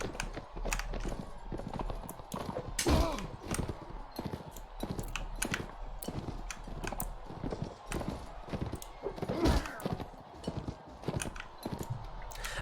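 Horse hooves clip-clop in steady rapid rhythm during a tournament fight in the Mount & Blade Warband video game, with dense overlapping impacts and scattered game sounds throughout.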